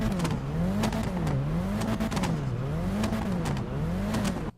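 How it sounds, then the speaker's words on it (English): Exhaust of the Elegy Retro Custom sports car in a video game, revving up and down in a rising-and-falling engine note repeated several times, loud and close, with sharp popping crackles between revs and no talk. "The next car is the Elegy Retro Custom. Just take a listen to this exhaust for a second."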